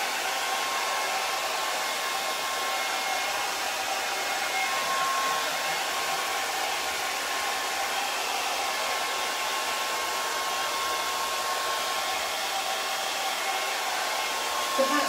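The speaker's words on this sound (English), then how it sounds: "I don't recommend you hair drying" Hair dryer blowing steadily and loudly throughout to dry Paint Couture paint on a painted surface, a continuous even whoosh with no talk.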